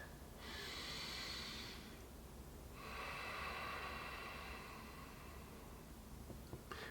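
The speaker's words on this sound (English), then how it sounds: "taking another nice deep breath." One slow, deep breath is drawn in through the nose and then let out in a long, airy exhale, quiet and close in an otherwise still room.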